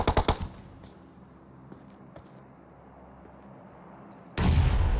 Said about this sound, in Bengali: গ্রেনেড করছে টিম 15 এর উপর